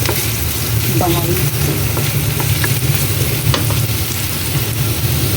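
A salmon head fries in a pan, giving a steady, close sizzle that runs unbroken throughout with small crackles and pops, alongside light kitchen handling noises.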